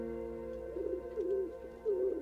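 Pigeons coo in a park in a few rising and falling calls, close and clear over a steady low background hum.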